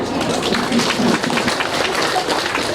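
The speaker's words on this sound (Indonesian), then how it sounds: "Tepuk tangan dulu." A crowd claps steadily in a dense, even burst of applause lasting a few seconds.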